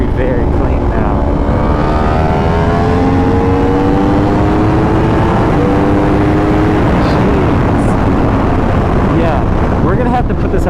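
A 2020+ Yamaha R1 sportbike with a flashed ECU revs up hard, its engine note climbing steadily through gears with a quick shifter and a brief break mid-pull, loud under heavy wind rush.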